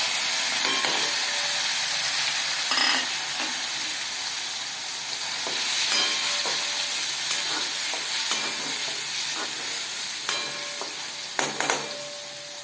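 Tomato pieces fry in a pan with hing, a steady close sizzle and hiss running throughout, broken by occasional scraping stirs and light clinks of the utensil.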